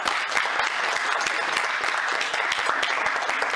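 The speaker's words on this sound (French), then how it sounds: "Et on applaudit." A crowd claps loudly and steadily throughout a short stretch at an award ceremony for an earth-building competition, dense applause with no pause.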